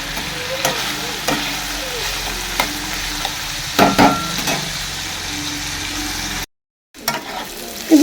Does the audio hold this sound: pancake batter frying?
yes